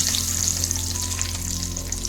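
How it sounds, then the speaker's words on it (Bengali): Whole spices—cardamom, cinnamon and bay leaf—sizzle in hot oil left from frying potatoes for a Bengali chicken and potato jhol, a steady close crackle with a faint low hum beneath and no talk. "আলু ভাজার তেলের উপরেই দিয়ে দিচ্ছি খাড়া মশলাগুলো, এলাচি, দালচিনি, তেজপাতা"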